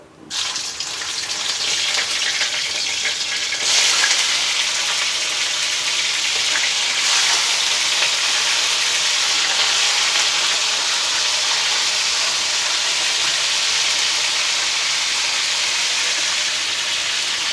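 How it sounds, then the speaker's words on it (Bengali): Chicken meat is dropped into hot oil already used for frying potatoes and sizzles in a loud, continuous hiss that holds steady from start to finish. "ওই তেলটাতে মাংসটা দিয়ে একটু ভেজে নিচ্ছি"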